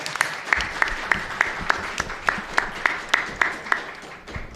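A literary audience gives Adán Medellín a round of applause, with regular, crisp handclaps from a few nearby people and a bed of scattered clapping that fades toward the end.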